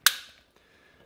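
A Glock 42 .380 ACP pistol slide snaps forward once as it is racked after reassembly, a single sharp close metallic click with a short ring, then near silence.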